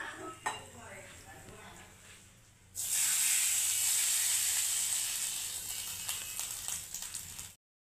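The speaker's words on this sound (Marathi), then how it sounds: "आणि ही फोडणी आता आपल्याला या भातावर घालून घ्यायची आहे।" A hot tempering is poured onto rice and sizzles, a sudden loud hiss that holds steady for several seconds after some quiet kitchen clinks, then cuts off abruptly.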